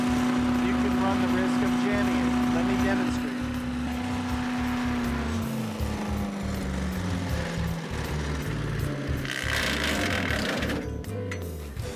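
A Harbor Freight wood chipper drones loudly, then its pitch sinks steadily as it spins down, and a burst of rough grinding breaks in near the end as fed material jams it, with someone talking over it.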